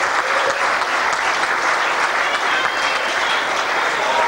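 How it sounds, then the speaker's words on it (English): A dinner crowd at a school reunion claps in a sustained, loud, dense round of applause that holds steady without any talking. "Sharon Mulholland, Melissa Fogarty, give them a round of applause."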